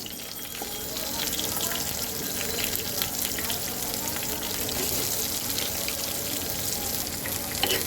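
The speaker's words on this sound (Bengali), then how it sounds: "তো বেগুনগুলো সুন্দর করে আগে ভেজে নিই" Eggplant pieces frying lightly in mustard oil, a steady broadband sizzle lasting throughout at even loudness, with a few faint clinks and no clear talk.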